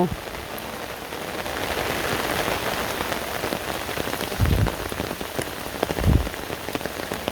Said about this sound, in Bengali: অনেক দিনে যে এত বৃষ্টি আমি দেখি নেই এত